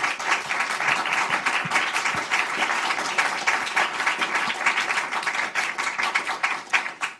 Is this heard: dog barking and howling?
no